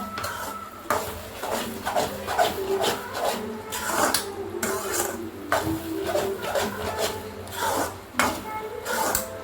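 A spatula scrapes and stirs egg semiya in a metal cooking pan, making repeated rubbing and clinking strokes at a steady, uneven rhythm, close and moderately quiet, with no talking.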